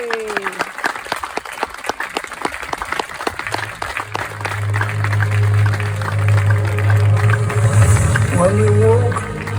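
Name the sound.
audience applause for NHS workers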